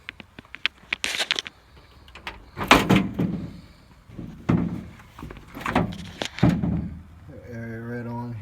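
Door of a 1955 Ford F100 pickup being handled, several close clunks and latch knocks with metallic rattles, followed by a rising whine at the end.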